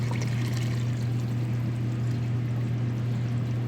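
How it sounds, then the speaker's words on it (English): Fresh cold water pours steadily into a stock pot holding carrots and celery, a constant full gushing sound at close range with no talking. "This is fresh, cold, clean water."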